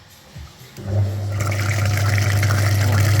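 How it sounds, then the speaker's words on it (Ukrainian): Water hose flushing dirt out of the front radiator of a Daewoo Nexia during a cooling-system clean, a steady loud rushing gush that builds after a brief quieter start and then runs continuously. "І ще миємо передній радіатор, ще підкидує бруд."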